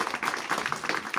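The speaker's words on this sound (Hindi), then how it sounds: "मैम के लिए एक बार ताली हो जाए।" Short burst of group applause from a class at a learning centre, clapping for the teacher during an education assessment visit; steady mid-level clapping with no voices over it.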